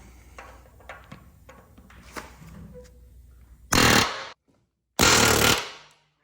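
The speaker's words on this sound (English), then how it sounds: "You want to take an air hammer like this with one of these on there" Scattered clicks and light handling noises, then an air hammer rattles loudly in two short bursts separated by a brief pause, during installation of a coilover suspension kit with the axles removed.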